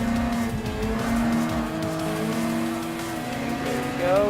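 A Mazda RX500 retro rotary supercar races in Gran Turismo Sport, its engine droning loud and steady with rising and falling pitch as it shifts, plus brief tire squeal, all continuous and close without a break.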